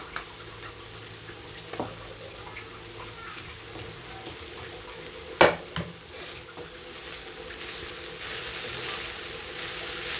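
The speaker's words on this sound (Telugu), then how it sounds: "ఇప్పుడు మనం దీంట్లోకి రైస్ మిక్స్ చేసుకుందాము" Cooked rice stirred and mixed with carrot in a pan over low heat gives a quiet, steady sizzle with soft scraping and a sharp utensil clatter near the middle.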